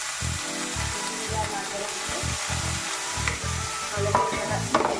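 Egg fried rice being stirred and tossed in a pan with little oil and ghee, water splashed in, giving a steady sizzle with rhythmic low scraping strokes, close and continuous.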